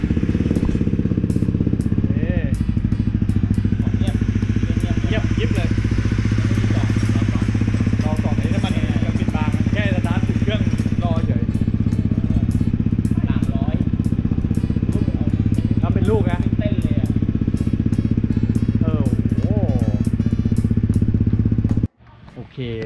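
A Honda CRF250L built up to 286cc runs loud and steady with a throbbing, even idle for about twenty seconds, voices talking over it, before the engine cuts out abruptly near the end.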